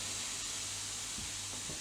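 Chopped pineapple sizzles in a hot pan with a steady broadband hiss, a few soft bumps and low hum beneath, fairly quiet and continuous.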